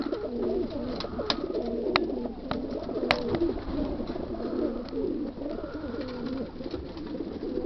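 Racing pigeons, including a black pied cock, coo in a loft in continuous overlapping rolling calls. Scattered light taps and clicks come through close by.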